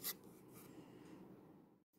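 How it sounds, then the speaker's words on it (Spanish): Wood being sanded by hand with sandpaper on the outside of a small wooden tea-bag house, a quiet, steady rasping rub that continues for about two seconds before stopping abruptly. "voy a coger una lija y voy a, lijar todo el exterior"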